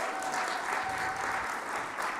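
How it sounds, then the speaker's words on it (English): An audience claps steadily and loudly through a Sunday church service after a musical performance, a dense, continuous wash of applause from a congregation that stays even throughout. "Let's give them another round of applause."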